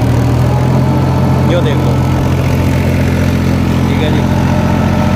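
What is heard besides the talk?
tractor engine running while hydraulics lift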